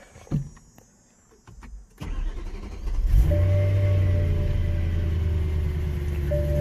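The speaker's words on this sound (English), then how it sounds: "Just start your car and hope everything works out." A 2008–2013 BMW M3 E90 is started after an alternator replacement: a brief click and whir of the starter, then the engine catches and settles into a loud, steady idle rumble, heard up close.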